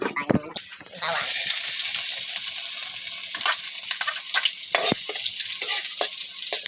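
Garlic hits hot oil in a pan with a sudden loud sizzle that keeps crackling steadily, with clatter and brief knocks at the start.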